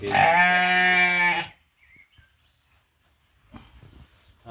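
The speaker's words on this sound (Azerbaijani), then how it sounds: "Quzusu da budur, dişi quzudur." A one-month-old female lamb at a breeding-livestock sale gives one loud, close, quavering bleat lasting about a second and a half, followed by near silence and faint background noise.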